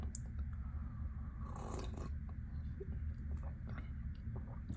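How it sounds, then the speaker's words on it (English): Someone drinks pho broth close to the microphone, with a short run of wet slurping and mouth sounds over a steady low background hum. "I hope this slurping didn't bother anyone"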